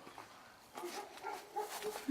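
A dog at the Château de Rochetaillée gives faint, distant whimpers and short yips that rise out of quiet background noise toward the end.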